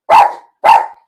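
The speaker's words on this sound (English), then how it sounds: "Sorry about my dogs." Two sharp, loud dog barks half a second apart, near and unaccompanied, from house dogs at an ashram reacting to people outside.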